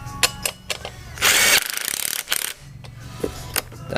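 A ratchet tightens the rear wheel bolts on a GoPed scooter in sharp clicking strokes with a loud grinding burst in the middle, close and alone.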